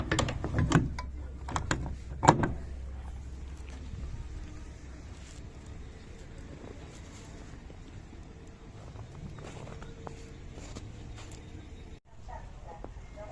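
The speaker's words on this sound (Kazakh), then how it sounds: "Қазір бортын түсіріп жіберейін сіздерге" The side board of a 2005 Gazelle truck with a 406 injector engine and a partly covered bed is lowered: two heavy metal clanks and rattles near the start, then faint creaks and mechanical knocks outdoors.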